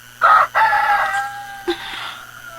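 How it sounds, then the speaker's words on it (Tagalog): A rooster crows once, loud and close, its drawn-out call rising and then trailing off, with a short clucking note near the end. "Nanuktugaok ng mga manok"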